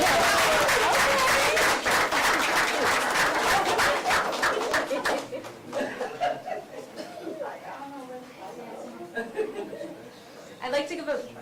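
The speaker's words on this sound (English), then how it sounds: "Let's clap it up on him." An audience applauds at a school board meeting, with dense, loud clapping for several seconds before it thins out into scattered claps, murmuring and light laughter under people talking.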